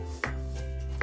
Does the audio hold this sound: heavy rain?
no